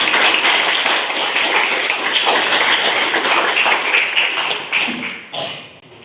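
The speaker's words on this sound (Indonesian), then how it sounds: "Sekali lagi mari kita beri tepuk tangan." An audience claps in a hall at a school Youth Pledge performance, giving dense, sustained applause that stays loud before fading toward the end.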